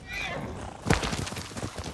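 A horse in the Ghost of Tsushima video game whinnies once, followed by a rhythmic run of hoofbeats close by, with someone talking over part of it.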